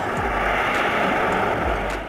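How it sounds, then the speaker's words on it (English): A water bomber plane flies past with a broad, steady engine roar that holds loud and constant, then eases slightly at the very end. No voices are heard. "Water bomber's plane. Aircraft used to drop water or fire retardant on wildfires to help extinguish them."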